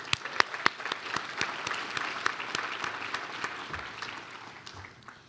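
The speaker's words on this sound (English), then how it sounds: "A round of applause for this group of students over here." Audience at a university awards ceremony applauds student organization staff, sparse individual claps standing out sharply over a softer bed of clapping that thins toward the end.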